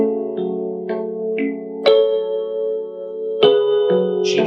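A piano plays a passage of a theme from Final Fantasy VII: sustained chords with single notes added every half second or so, and two stronger struck chords ringing out clearly. No one talks.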